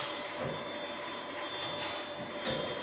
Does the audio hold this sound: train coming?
yes